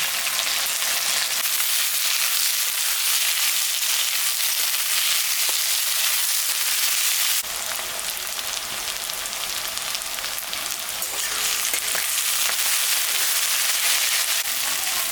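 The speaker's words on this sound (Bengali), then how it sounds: "পেঁয়াজটা ভাজা হয়ে গেছে" Onion and crushed garlic frying in hot oil with dried chilli and bay leaf for a mutton curry, a steady loud sizzle throughout with a brief shift midway, no voices.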